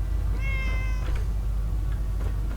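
A cat in a video game gives a clear meow, followed by a couple of fainter mews over a low steady background hum.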